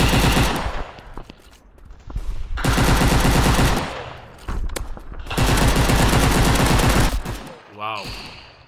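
Rapid automatic rifle fire from the mobile shooter Maskgun FPS, in long sustained bursts with short pauses between, loud and close.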